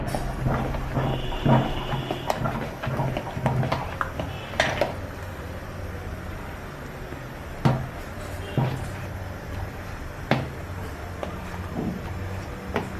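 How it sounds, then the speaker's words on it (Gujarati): A spoon clanks and scrapes inside a pot as it mashes boiled potatoes, in irregular knocks and scrapes against a background hiss of cooking, with no talking. "ચમચા વડે બધા બટેકાને ભાંગી લેવાના"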